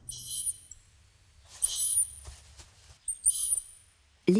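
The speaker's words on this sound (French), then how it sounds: "le chercheur installe une enceinte qui va diffuser les couinements de la souris à vitesse réelle" Mouse squeaks played at real speed from a loudspeaker: three thin, very high-pitched squeaks spaced apart, over faint low rustling.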